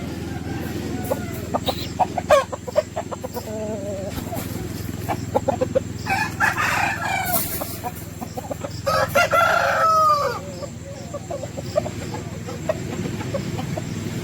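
Roosters of a country breed in a garden crow loudly several times and cluck between calls, some close and some farther off, while someone talks over them.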